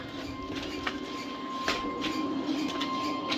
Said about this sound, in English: So you got your auger.